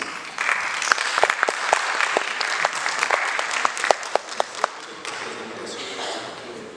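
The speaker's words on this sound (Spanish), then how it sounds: "recibámoslo con un fuerte aplauso" An audience applauds to welcome a speaker at a talk on the pottery tradition of Morcá, dense clapping with a few sharp, close individual claps standing out before the applause thins and fades near the end.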